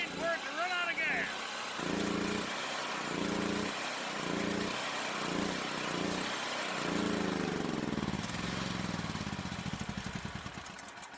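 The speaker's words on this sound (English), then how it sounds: "Mongo always recommends before you shut the generator off to shut the fuel off and let the generator run out of fuel." A portable generator runs on with its fuel shut off until it starves, a steady engine drone that pulses unevenly and then falters and fades near the end, heard close with no clear talking.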